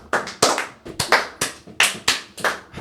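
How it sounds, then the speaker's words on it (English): One person clapping hands slowly and unevenly, about a dozen close, crisp claps over a few seconds with no talking. "Let me sit my beer down so I can clap."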